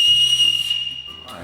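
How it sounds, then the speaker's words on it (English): A person whistles one sustained, clear, high note that holds steady, then fades as a faint low hum and murmur sit beneath it. "No, that I can also whistle"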